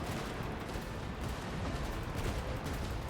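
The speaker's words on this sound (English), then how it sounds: "Hey, explosions!" Dense, continuous gunfire and explosions from a battle in the video game Genshin Impact, a steady loud barrage of overlapping shots and blasts with no clear gaps.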